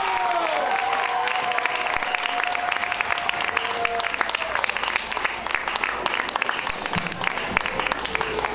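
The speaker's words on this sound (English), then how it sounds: "Can we give them another round of applause" Audience applause at a school performance of Macbeth by junior and senior high students, a steady dense clapping from a crowd that fills the whole stretch, loud and continuous.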